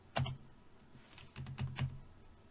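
A computer keyboard is struck with a few keystrokes, including Enter presses, as crisp close clicks in small clusters against a quiet room.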